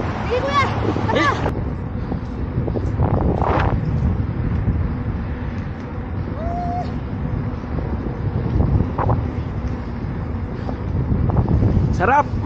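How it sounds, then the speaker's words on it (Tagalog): Wind rushing past the microphone on a mountain bike during a night ride on a dark trail, a steady broadband roar throughout with people talking over it at several points. "Sarap, mahangin pa oh."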